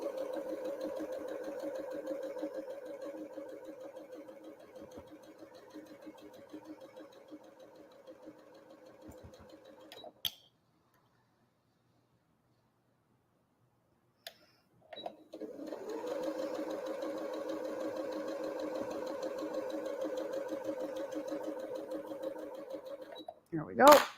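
A sewing machine stitches a Peony Star quilt block with a steady, fast, near whir that stops for several seconds, then starts again, and a voice talks over it.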